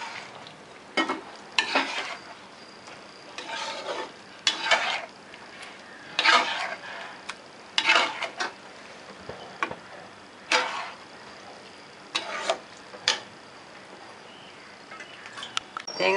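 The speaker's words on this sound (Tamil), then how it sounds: "தேங்காய் போட்டு கொதிக்குது." A vegetable korma with peas and a ground coconut, poppy seed and cashew paste bubbles in a pan, a soft simmer broken by irregular stirring scrapes and clinks of a spoon.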